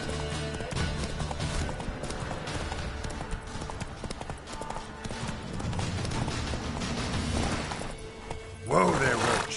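Roach, Geralt's horse in The Witcher 3, galloping with rapid hoofbeats over game music and effects, ending in a louder burst as the horse is reined in.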